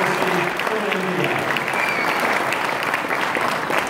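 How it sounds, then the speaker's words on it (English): A crowd applauds at the India at 70 celebration in Auckland, with dense, steady clapping from many hands that stays loud for the full four seconds. "let's have a round of applause for the strength of democracy in India"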